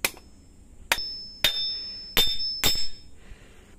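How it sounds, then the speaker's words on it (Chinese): Short copper air-conditioner tube rivets are hammered into a hammer handle, heard as five sharp metallic strikes at uneven intervals with ringing tails, close and loud, with no speech. "都截成了1公分，然后铆在这里，你看用锤子给它铆上"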